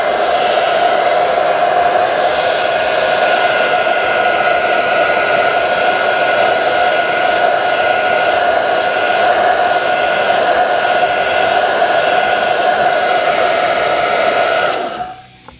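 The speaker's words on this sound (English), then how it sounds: "I'm going to use my airbrush hair dryer and just dry it off" A loud airbrush hair dryer blows steadily with a constant whirring hum, running close by without pause before cutting off at the end.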